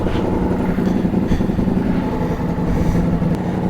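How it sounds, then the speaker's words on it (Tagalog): A Ducati Multistrada V4S motorcycle idles outdoors with a steady, loud, close engine rumble and an even throbbing beat throughout, with no talking. "I like the sound of this bike. Sounds good when you start it up out here."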